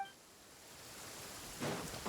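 Rain in the Genshin Impact game world, a steady soft hiss of falling drops that swells slightly louder near the end, with no talking over it.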